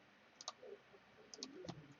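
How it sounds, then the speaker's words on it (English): Trading cards being shuffled by hand during a tabletop card game: soft, quick riffling clicks and snaps in short bursts, quiet and close, with no talking. "Let's shuffle."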